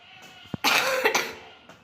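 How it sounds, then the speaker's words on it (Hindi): One harsh, close cough bursts out after a small click, trailing off with a fainter follow-up rasp. "थोड़ी सर्दी का मौसम है तो थोड़ी खांसी हो रही थी"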